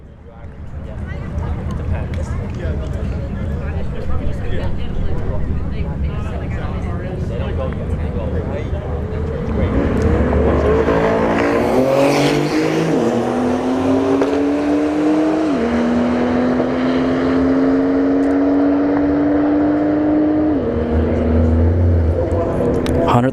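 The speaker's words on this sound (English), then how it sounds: "In the house tonight, we have a C8 in the right lane and another Porsche 911 Turbo." A Chevrolet Corvette C8 and a Porsche 911 Turbo launch in a street drag race at a motorsports park, engines roaring and rising in pitch through several gear shifts while a commentator talks over the noise.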